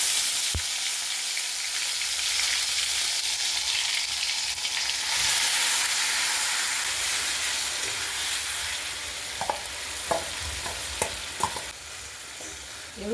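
Whole garam masala and mace sizzling in hot oil for a Bengali chicken curry, a broad hissing sizzle that swells midway, then eases, with several sharp pops and utensil clicks toward the end.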